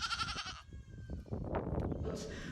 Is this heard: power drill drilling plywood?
no